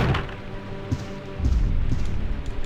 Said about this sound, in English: don't remark on the rain, who cares?